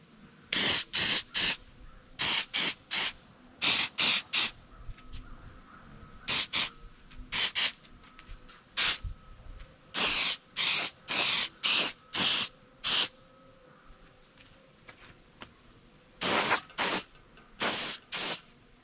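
An airbrush or spray can lays a heavy final coat of paint on a replica crappie fish mount, giving many short, sharp hissing bursts of uneven length with brief quiet gaps between them, close and alone.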